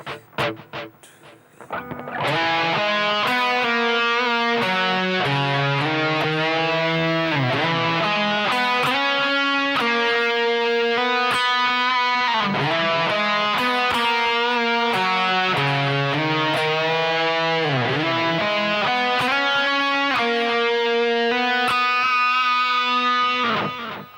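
An electric guitar solo in E Lydian plays alone, bright and sustained with light distortion, notes bending and climbing through a long melodic run.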